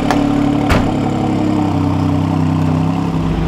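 A car engine catching after ignition and settling into a rough, loud idle, with a couple of sharp bursts at the start followed by a steady low rumble close by.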